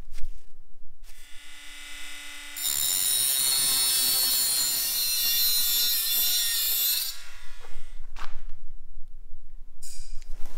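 Power tool trimming the worn end of a Picote Miller flex shaft, a steady high grinding whine running for several seconds between quieter pauses, close and loud.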